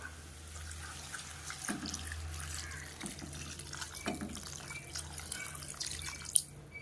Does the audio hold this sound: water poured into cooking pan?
yes